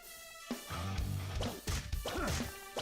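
A whip smashes eyeball enemies in the Castlevania Chronicles II: Simon's Quest fan remake, producing a few sharp cracking hits over the game's looping background music.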